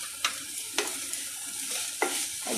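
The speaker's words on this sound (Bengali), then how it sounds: "অল্প করে রসুন দিয়ে দিলাম।" Garlic added to a pan of chilli chicken, frying in a little oil: a steady close sizzle with a few sharp spatula clacks and scrapes spaced through it.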